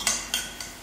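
A spoon stirs samosa filling in a bowl, making three short, close scraping strokes with light metallic clinks, each about a third of a second apart.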